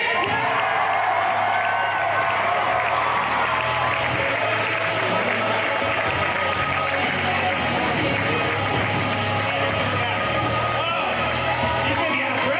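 A convention audience at Wizard World 2016 breaks into sustained applause and cheering, a dense, even roar of clapping with whoops that holds steady at full volume throughout.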